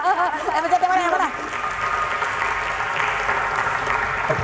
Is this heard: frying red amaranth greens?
no